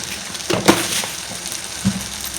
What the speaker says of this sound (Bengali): এবার মশলাটা ভালো করে কষাবো